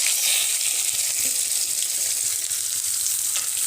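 Onion, dried and green chillies, bay leaves and ginger-garlic paste fry in hot oil, giving a steady, close bright sizzle that runs unbroken throughout with no voices.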